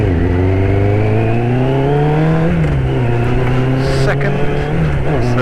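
Thundercat or ZX6-R motorcycle engine revving steadily under throttle while riding, a loud, close whine climbing and dipping in pitch for several seconds with no pause.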